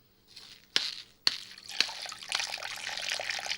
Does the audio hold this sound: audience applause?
no